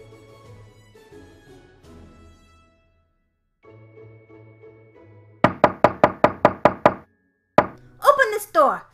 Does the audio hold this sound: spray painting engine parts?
no